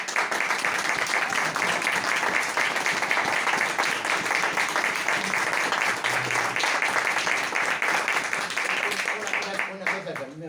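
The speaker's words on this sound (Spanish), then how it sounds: "yo quiero pedir un fuerte aplauso para esto" Audience at a book presentation on Borges by an author applauds in a sustained, dense wash of clapping that fades slightly at the very end, with voices mixed in.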